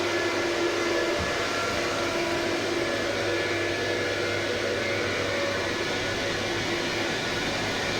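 Large cooling fans in a crypto mining room run at full speed, giving a steady, unbroken roar of rushing air with a faint low hum beneath it. No voices are heard.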